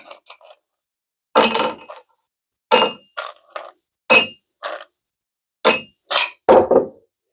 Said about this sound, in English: Toss some ice cubes in there.